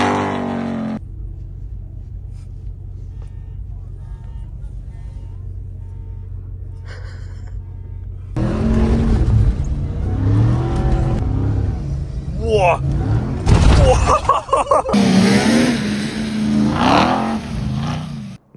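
An SLS Rally truck engine cold-starts and revs: steady idle rumble gives way to louder, rising revs with sharp bursts, while people exclaim and talk over it.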